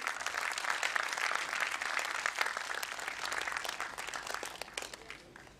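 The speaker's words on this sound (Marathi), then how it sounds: "जरा एकदा जोरदार टाळ्या होऊ देत." Sustained applause from an audience at a sponsor felicitation ceremony, loud and dense from the start, holding steady before thinning and fading toward the end.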